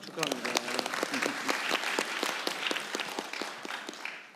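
An audience claps for a Seoul Science High School student who won gold with a perfect score at the International Mathematical Olympiad. The applause is steady and lively, with individual claps standing out, and lasts about four seconds without a break.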